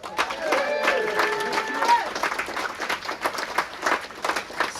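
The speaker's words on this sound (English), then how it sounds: "give a round of applause to myself and the comedians tonight" Applause and cheering from a crowd at a comedy night in Brighton Harbour Club, clapping rising in waves while a voice speaks over it.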